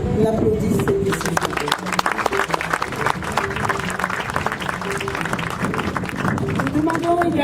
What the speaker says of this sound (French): je voudrais qu'on applaudisse cette décision